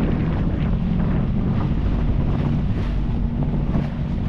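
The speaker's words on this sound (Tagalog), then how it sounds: "Laki ng alon, mabagat." Big sea waves and strong wind buffet a boat out on open water, with a continuous loud rush of wind on the microphone and the deep churning wash of the waves.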